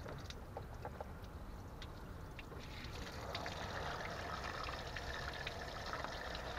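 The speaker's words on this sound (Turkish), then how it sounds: "o aşağıdaki tufayı söküp suyu boşaltıyoruz" Coolant water draining from the lower radiator plug of a Tofaş Doğan SL, a steady trickling and pouring that grows a little fuller midway, close and continuous with no talk.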